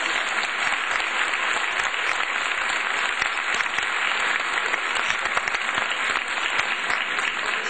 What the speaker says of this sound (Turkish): O yüzden kültürümüze, öz müziğimize sahip çıkan bu gençlere ben kocaman bir alkış vereceğim.